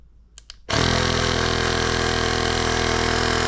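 A LASFITAIR CR1 tire inflator starts after two light clicks and runs with a steady, even mechanical drone, close and constant to the end, with no voices.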